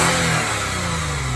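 A car engine revs loudly and steadily on a quiet stock exhaust, a close, continuous drone with no voices.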